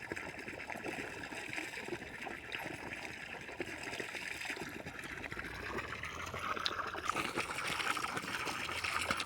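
Irrigation water flows and trickles steadily through a field planted with cowpea (bobbarlu) along the bunds, a continuous close gurgle that grows slightly louder toward the end, with no talk.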